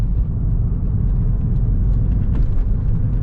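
A 2004 Porsche 911 Turbo 996 with a twin-turbo engine and six-speed gearbox, heard from inside the car as it drives: a loud, steady, low engine drone and rumble with no clear surge, continuous for a few seconds with no voices.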